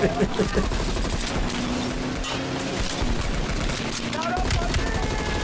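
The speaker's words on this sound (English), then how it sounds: "Just gotta shoot the driver." Gunfire in a video game comes as rapid, close bursts of shots, heaviest at the start, then continues in scattered volleys over a dense, noisy background.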